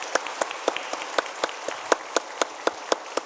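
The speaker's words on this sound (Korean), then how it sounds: "우리 뜨거운 박수로 축하하십시다" A church congregation applauds during a Sunday worship service, with sparse, fairly close claps in a loose, steady rhythm.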